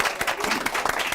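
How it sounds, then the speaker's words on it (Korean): A live talk-show audience applauds a guest, the CEO of a 3D printer company, with dense, steady clapping from many hands filling the whole moment. "박수 부탁드리겠습니다"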